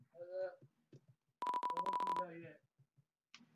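Phone beeping in the video game Undertale, a rapid series of short, evenly pulsed electronic tones lasting under a second, set between bursts of speech.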